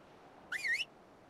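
A short whistle emote from the Ark video game, one rising-and-falling tone lasting about a third of a second, heard clearly over a low game background hum with no talking.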